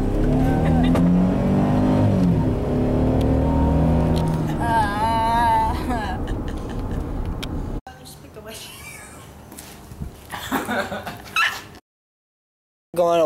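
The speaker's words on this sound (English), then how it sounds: "Spencer, rev it." A car engine revving hard in repeated rising and falling pulls, loud and close for several seconds, then quieter idling and street noise as people talk over it.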